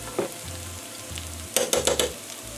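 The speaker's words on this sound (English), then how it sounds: "Really only want to cook the garlic about 30 seconds or so." Chopped garlic fries in melted ghee in a pan just before rice goes in for curry fried rice, giving a soft sizzle broken by several quick scraping stirs near the end, with a low steady background underneath.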